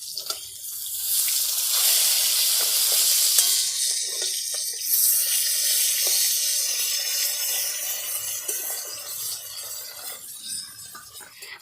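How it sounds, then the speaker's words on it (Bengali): Rohu fish frying in hot oil after being turned to the other side, giving a constant high sizzling hiss with light spatters that eases slightly toward the end, close by. "মাছগুলো একদিকে ভাজা হয়ে গেছে, অন্যদিকে উল্টে দেব।"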